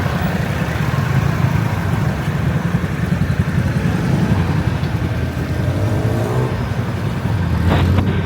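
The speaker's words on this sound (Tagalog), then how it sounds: "Grabe ka traffic." Dense road traffic in Lapu-Lapu City, Cebu, with a steady low rumble of car and motorcycle engines close by, one passing vehicle rising in pitch toward the end, and no talk.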